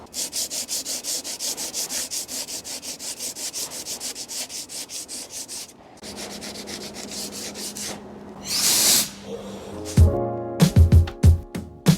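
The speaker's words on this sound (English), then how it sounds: "So we'll sand it down and repeat the same thing that we did on the door." Steady rhythmic scraping of sandpaper over dried body filler on a crashed McLaren 650S Spider, repeated strokes for several seconds, then a brief hiss and some clattering handling noises.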